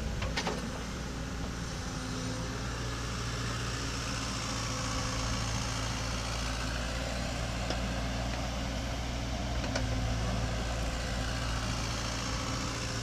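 A 2018 Caterpillar 305.5E2 mini excavator runs and swings at steady idle, a continuous low engine rumble with a faint hydraulic hum and occasional light clanks, close by and without talk.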